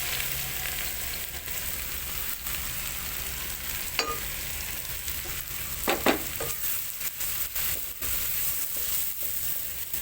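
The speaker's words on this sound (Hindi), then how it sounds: "अब मैं इसको ये ऑयल को गरम किया है और उसके अंदर अब इसको डालेंगे" Steady sizzle of food frying in heated oil, continuous and fairly loud, with a few brief clinks and stirring sounds partway through.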